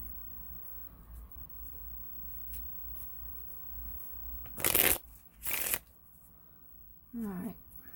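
Tarot cards are shuffled in two quick riffling bursts, close and crisp, followed by a softer card sound in an otherwise quiet room.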